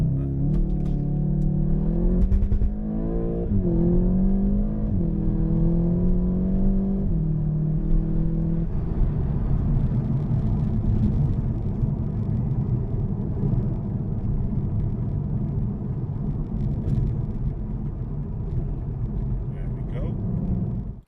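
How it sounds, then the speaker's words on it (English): Volkswagen Golf GTI TCR engine revving up in rising sweeps, then settling into a sustained loud rumble as it accelerates, with a person talking over it. "On the brake, foot on the accelerator."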